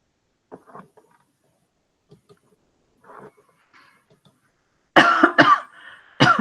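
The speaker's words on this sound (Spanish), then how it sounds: "Esperen, estoy con una tos mortal" A few faint noises give way to a burst of loud, harsh coughs near the end, several hacking coughs in quick succession, close up.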